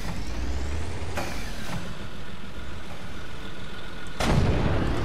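Tank cannon blasts in the tank battle game Infinite Tanks: two loud, sharp booms about three seconds apart over a constant rumbling engine drone, with no speech.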